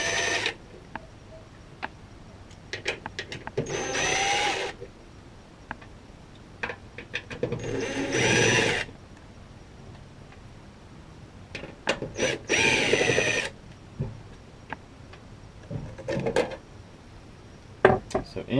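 Number 2 Phillips head screws being backed out of a door, heard as repeated bursts of close mechanical whirring with scattered clicks, clatter and small metallic knocks in between.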